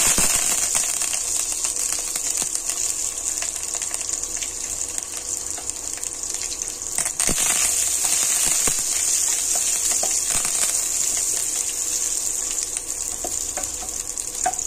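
Onion and curry leaves sizzle steadily in hot oil, a constant bright crackling hiss that stays loud and even throughout with occasional small pops.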